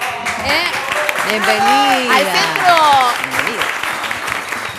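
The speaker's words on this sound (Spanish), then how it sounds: "Vamos a darle un fuerte aplauso." Audience applause at a gymnastics and dance show at Centro Fomento de Los Hornos, a steady broadband wash of clapping under a woman's loud, excited voice addressing the crowd.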